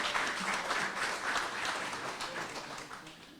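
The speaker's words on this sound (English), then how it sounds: "Let's give them a round of applause for all that they do for our county." An audience claps for a county school board superintendent and board members, a steady wash of applause at moderate distance that gradually fades.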